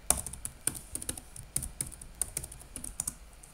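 A password being typed on a computer keyboard: a brief, close run of crisp key taps at an irregular pace, with no voices.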